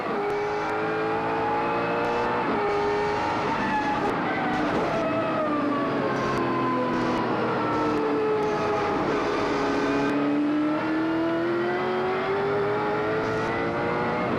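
Loud, continuous engine roar heard from inside a V8 Supercar during a 1999 race at Barbagallo, pitch rising and falling through gear changes and throttle shifts, with no talking.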